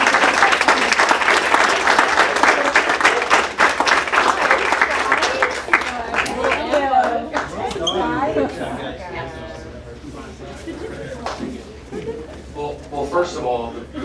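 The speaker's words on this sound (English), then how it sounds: "So let's give a big round of applause for these." Audience at a school board meeting breaks into loud, sustained applause that begins full and dense, then thins into scattered claps with chatter and voices rising underneath toward the end.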